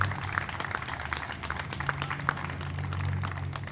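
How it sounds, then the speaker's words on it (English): A press conference audience gives a round of applause for three winning competition entries, with dense, steady clapping that carries on for several seconds at moderate loudness with no talk over it. "I think we should give a round of applause to the 3 winning entries"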